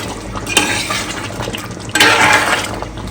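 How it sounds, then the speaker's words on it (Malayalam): A spoon stirs a pot of biryani masala right after water has been poured in, giving two loud, sloshing, scraping bursts over a steady low background, with no talking. "നമ്മൾ വെള്ളം ഒഴിച്ചതിന് ശേഷം നന്നായിട്ട് ഇളക്കി കൊടുക്കണം"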